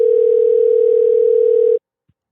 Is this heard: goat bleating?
no